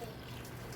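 Chicken stock trickles into canning jars with a soft continuous liquid pour, brief and close, faint under a quiet room hum.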